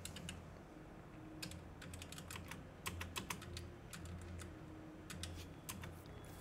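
Computer keyboard keys, the backspace among them, tapped during a Caves of Qud game session: quiet, crisp clicks in irregular bursts and short runs over a low background hum.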